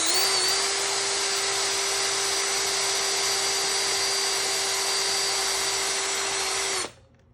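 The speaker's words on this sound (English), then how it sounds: "we're just gonna drill this out just a little bit." A power drill bores into the stock assembly of a Tokyo Marui MP7 airsoft gun, a loud, steady high-pitched whine held for about seven seconds before cutting off abruptly.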